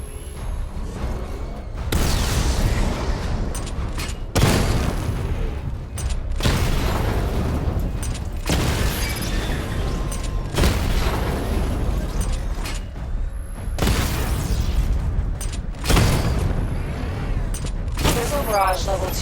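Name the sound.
missile barrage explosions in Batman: Arkham Knight video game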